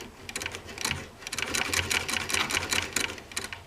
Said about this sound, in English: So we take a couple of stitches, we put the thread toward the back